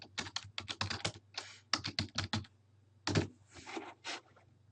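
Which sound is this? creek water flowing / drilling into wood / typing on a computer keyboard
typing on a computer keyboard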